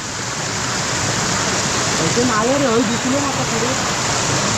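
A small waterfall in a rocky stream gives a loud, steady, close rushing roar throughout, with a voice speaking briefly over it partway through.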